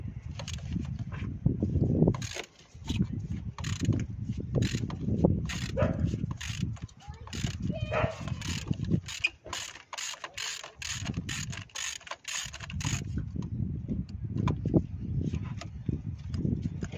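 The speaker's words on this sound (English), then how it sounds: "So I'm using my 16mm spark plug sockets with extension." A 16mm spark plug socket on an extension is ratcheted to work a spark plug loose from a VE Commodore engine, giving bursts of rapid clicking ratchet strokes between pauses, close by, with someone talking over parts of it.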